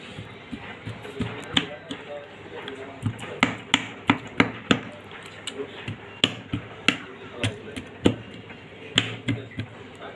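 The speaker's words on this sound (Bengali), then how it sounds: "কেচে নিলে গাইজ মশলাটা ভালোভাবে ঢুকবে যেরকম একটা কাটা চামচ দিয়ে" A fork pricking raw tandoori chicken makes sharp, irregular taps in quick bursts over about ten seconds, close and crisp against a quiet room murmur.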